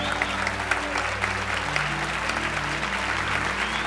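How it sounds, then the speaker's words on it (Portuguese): Dense, steady applause from a large church congregation during a Baptist service, continuous and fairly loud throughout, with scattered whoops over the clapping. "Pode aplaudi-lo."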